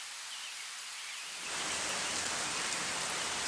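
Steady rain falls, its hiss swelling noticeably heavier partway through into a dense, close downpour.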